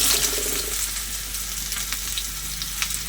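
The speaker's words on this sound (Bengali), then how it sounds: "এবার আমি কেটে ধুয়ে পরিষ্কার করে রাখা পটলটা তেলের মধ্যে দিয়ে দেবো।" Chopped pointed gourd fries in hot mustard oil, giving a dense, steady sizzle and crackle close up with small spattering pops throughout.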